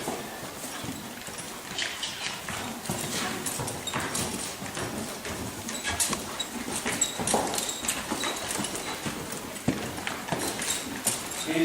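Horse cantering in an arena, with rhythmic three-beat hoofbeats thudding on the ground in a steady repeating pattern, moderately close, and no speech.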